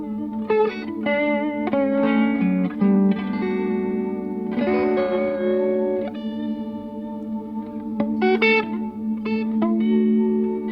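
An electric guitar plays through a studio pedalboard with a Generation Loss pedal and a held sustain, producing warbling, echoing notes and chords with distorted, wavering tails, close and fairly loud.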